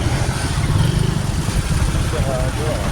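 Motorcycle engine running in Zapote, Bacoor, Cavite, a loud steady idle-like rumble filling the whole clip, with people talking over it.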